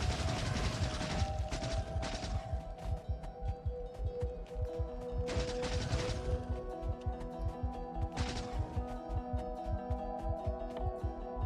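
Sustained rapid gunfire in Factorio: Space Age, dense trains of sharp repeated shots with a few louder bursts, loud and continuous throughout without talk.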